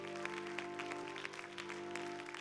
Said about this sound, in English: let's give the Lord a good hand clap of praise tonight